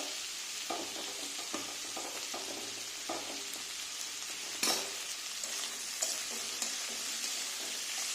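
Mixed colourful vegetables with green chilli sizzle steadily in a pan for a spicy semolina dish, with intermittent scrapes and knocks of a spoon stirring through the frying, close and continuous with no talking.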